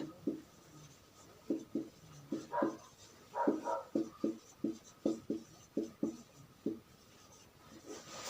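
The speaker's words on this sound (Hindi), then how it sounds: "आधुनिक सिद्धांत को मैं यहां से मिटा करके इधर लिख देता हूं, यहां पे लिखता हूं आधुनिक सिद्धांत" Chalk writing on a classroom board: a run of short, sharp tapping and scratching strokes in an uneven rhythm, close and fairly quiet, with no voice over them.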